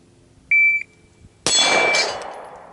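Two bullet strikes ring off a 6-inch steel plate lollipop target: a short, clear metallic ping first, then a loud sharp crack with a bright ringing decay about a second later.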